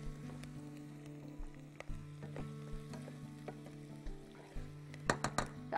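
Carrots and onions sautéing in a pan, a faint, steady sizzle with light stirring clicks and scrapes scattered throughout, close but quiet.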